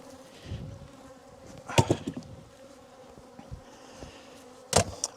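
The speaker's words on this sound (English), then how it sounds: "Oh no, the car's getting full of bees now" A swarm of bees buzzes inside a car, a steady close hum of many insects with sharp louder thuds and knocks breaking in at intervals.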